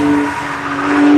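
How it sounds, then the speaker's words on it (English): Porsche 911 race car passing on track during a Tire Rack One Lap of America event at Hedge Hollow, a loud close engine note with a sustained tone and a brief dip as it goes by, no voices. "Rob Bowen and his 911."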